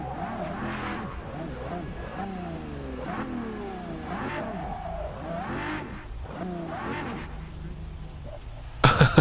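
A silver Ferrari in the racing game Forza Motorsport 6 revs over and over, its engine pitch sweeping up and down in quick rising runs, with a sharp loud burst right at the end.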